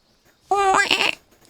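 A goat in the stealth game Metal Gear Solid Delta gives a single short, wavering bleat, close and clear, lasting about half a second against near silence.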